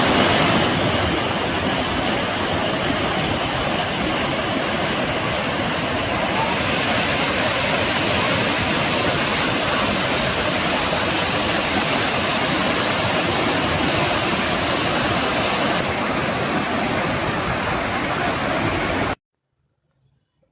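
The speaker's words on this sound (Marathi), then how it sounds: "हिरवागार निसर्ग आणि विलक्षण धबधबा." A waterfall near Lonavala during the monsoon, a loud continuous roar of rushing water heard close by for almost the whole stretch before it cuts off abruptly.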